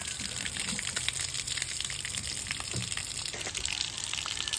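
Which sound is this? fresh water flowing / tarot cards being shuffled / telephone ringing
fresh water flowing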